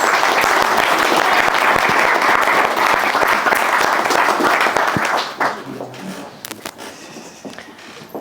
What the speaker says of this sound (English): A round of applause for our ring bearers.